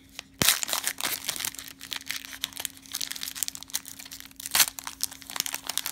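Foil wrapping of a 2018-19 Panini Prizm basketball hobby pack crinkles and tears close up, with sharp rips and crumpling rustles over a faint steady hum.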